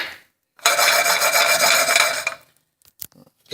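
Dry quinoa grains tossed into a hot buttered pan and stirred give a loud, steady rattling hiss for just under two seconds, then fall to near quiet with a few faint clicks.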